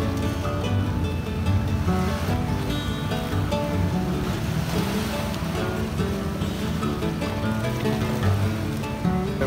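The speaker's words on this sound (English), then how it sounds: "Over here we got waves crashing pretty hard." Ocean surf crashes onto a beach in Cozumel in a continuous heavy roar with churning water, loud and close, with no talking.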